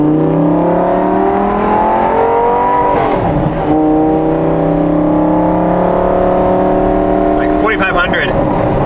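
A Gen 1 Audi R8 V10 with stock headers and a Valvetronic exhaust idles and cruises at low RPM, a smooth steady drone with a short dip around a shift and a brief clatter near the end.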